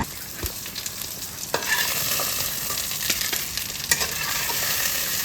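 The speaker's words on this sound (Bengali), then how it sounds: "মামনি এখন মাছ ভাজছে, বড় বড় কাতলা মাছ" Large pieces of catla fish frying in hot oil, a steady close sizzle with occasional sharp pops and crackles.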